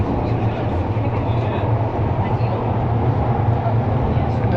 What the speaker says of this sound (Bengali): আমরা এখন সিঙ্গাপুরের মেট্রো রেলের মধ্যে আছি